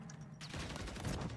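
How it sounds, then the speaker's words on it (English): Rapid gunfire from players in a Call of Duty Warzone match breaks out after a quiet start, a dense, continuous stretch of overlapping shots that stays loud until the end. "There are two guys shooting from the same spot."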